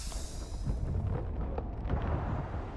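Explosions in the Starfield video game, played on PC at very hard difficulty, make a loud, continuous rumbling roar with a few heavier bursts rising from the din.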